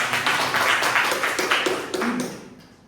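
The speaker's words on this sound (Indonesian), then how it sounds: "Beri tepuk tangan buat kita." Brief applause from a class of students, a dense patter of many hands clapping at moderate volume that gradually thins and fades out toward the end.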